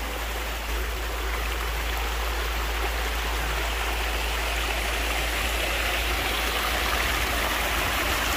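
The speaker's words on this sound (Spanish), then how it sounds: "Qué paz al escuchar el sonido de esos chorritos de agua." Steady, continuous trickling of small water streams at Laguna de Las Iguanas in Santa Isabel, Puerto Rico, a soft constant splashing rush close by with no voices.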